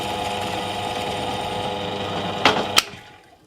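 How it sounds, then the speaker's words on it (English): A steady high-pitched whir of a small drill boring a 10mm hole in a wooden guitar neck, ending with two sharp clacks before the motor winds down to near silence. "drill a 10mm hole in the neck to the correct depth"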